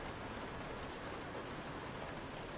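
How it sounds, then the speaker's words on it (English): Steady heavy rain in the Resident Evil 7 horror game, a dense continuous hiss of downpour with no pauses, filling the whole stretch at an even level. "Now that's the rain effects, not too bad"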